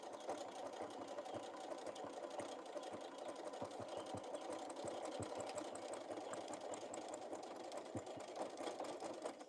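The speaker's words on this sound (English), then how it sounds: "now I'm going to go over my zipper, double stitch it." A sewing machine runs steadily while double stitching over a zipper on a fabric bee pouch, its close, continuous motor whir and rapid needle clatter lasting throughout with no talking.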